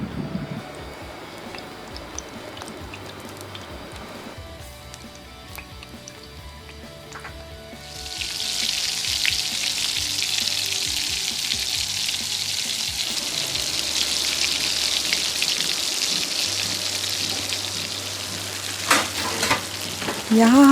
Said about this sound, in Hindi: पैन में ऑयल को गरम करेंगे और कबाब को अंडे में डिप करके फ्राई कर लेंगे।